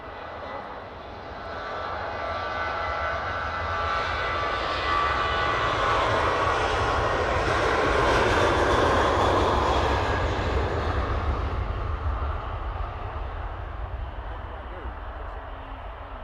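A Ryanair jet departs at Manchester Airport, and its engine roar swells steadily from a distance and then slowly fades as the plane climbs away.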